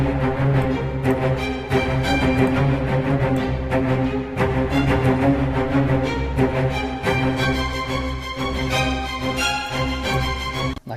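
Orchestral string section with spiccato cellos, basses, violins and violas playing a driving, rhythmic cinematic passage, loud and sustained throughout with no talking.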